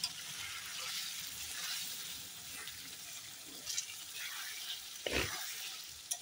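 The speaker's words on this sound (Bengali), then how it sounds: "আলুটা দিয়ে ভালো করে কষিয়ে নেই।" Potatoes frying in oil in a pan, a continuous close sizzle that swells and eases with stirring, broken by a few soft knocks of the utensil against the pan.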